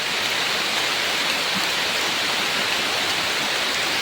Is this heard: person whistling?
no